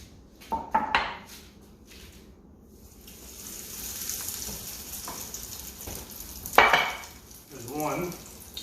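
Egg-dipped handmade fettuccine fries in hot oil with a steady, low sizzle, broken by a few clinks of utensils and pans and a brief burst of louder spattering near the end.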